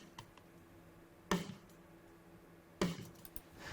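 A processed snare drum, attack and full-body tracks layered together, struck twice with a sharp crack and short ringing body, widely spaced and fairly quiet, no talk.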